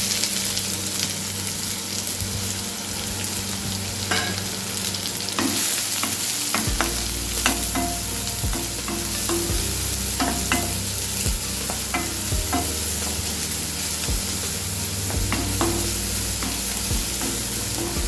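Sliced onions frying in a pan for a soya pepper fry, a steady loud sizzle with spoon scrapes and stirring knocks throughout, close up and without talk.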